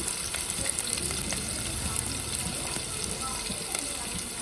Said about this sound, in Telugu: పల్లీలు వేసుకొని బాగా ఫ్రై చేసుకోవాలండి ఆనియన్స్ వేసుకోవాలి